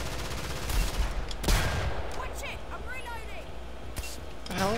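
Rapid bursts of gunfire from the video game Killing Floor, loud and sharp with sustained volleys and a heavy crack near the start, mixed with game effects and chatter from players.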